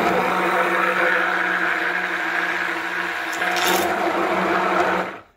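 A stick blender whirs steadily through cold process soap batter, a loud close motor drone with a brief scraping burst near the end before it cuts off.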